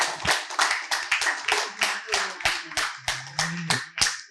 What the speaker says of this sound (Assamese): সকলোৱে নিজৰ বাবে এটা হাত তালি বজাব লাগে সকলোৱে লাষ্টত।